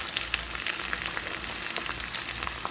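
Chopped onion and garlic saute over high flame in a pan, a dense, continuous crackling sizzle with scattered pops, close and steady throughout.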